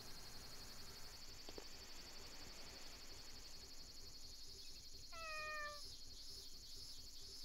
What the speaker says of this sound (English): All those cats.